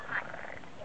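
Many frogs gathered in one place croak together, with one bright, loud call near the start over a steady chorus of fainter croaks.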